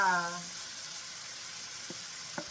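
Aromatics sautéing with pepper in a hot pan give a steady, soft sizzle throughout, with a couple of faint utensil taps near the end and a brief voice at the start.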